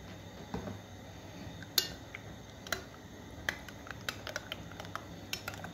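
A spoon clinks against a bowl while garlic is mixed into matsoni, light scattered taps and scrapes at an irregular rhythm over a quiet background.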